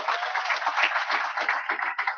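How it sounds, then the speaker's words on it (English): Audience at a conference breaks into brief, steady applause, a dense patter of many hands clapping that lasts about two seconds. "Could we please give him a round of applause too?"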